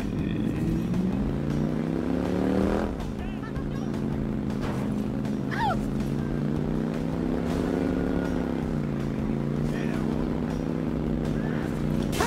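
Small motorcycle ridden in the video game Watch Dogs, a steady buzzing engine drone that shifts pitch as it accelerates and slows, with brief whooshes and screeches over it.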